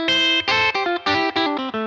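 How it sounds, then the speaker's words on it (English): A PRS NF53 electric guitar with its volume knob turned down and tone knob fully up plays a short run of clean, bright, chiming notes, up close and alone. "all I have to do to get a nice, clean, sparkly Tele-esque sound is just turn the volume knob down"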